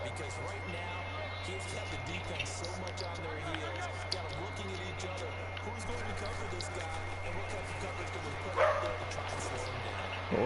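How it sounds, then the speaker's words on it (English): A dog barks and yips intermittently in the background of an indoor livestream, mixed under steady chatter and a constant low electrical hum. "What is your dog barking for?"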